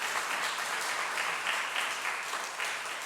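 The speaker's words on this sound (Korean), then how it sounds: "우리 박수로 환영해 주시기를 바랍니다" Applause welcomes guests during a church worship service: a large congregation claps steadily and evenly throughout, a dense continuous patter with no talking over it.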